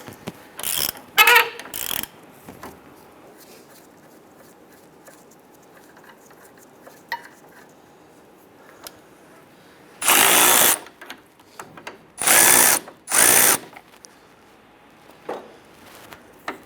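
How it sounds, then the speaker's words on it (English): Control arm bolt and nut on a 2005-2010 Chrysler 300 being loosened with an 18mm socket and wrench: a few quick metallic ratcheting bursts early on, then louder clicking runs near the end, with no talk. "We're going to go ahead and use our 18mm socket on the bolt side and 18 wrench on the nut side."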